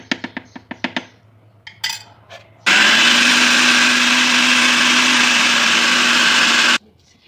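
An electric grinder purees minced-meat kofta batter mixed with ghee. A few hollow knocks and clicks come first, then a loud, steady motor whir runs for about four seconds before cutting off abruptly.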